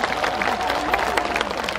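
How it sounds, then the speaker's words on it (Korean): An audience at an outdoor concert in Busan Citizens Park applauds, dense overlapping claps forming a steady crackling wash at moderate distance, with crowd murmur mixed in. "박수."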